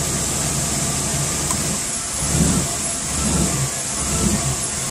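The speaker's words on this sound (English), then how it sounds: "we plugged it in, and then we saw a real rough idle" A Chevy engine idling rough with a faulty mass airflow sensor, a steady close mechanical drone with slight uneven surges in level, no talking.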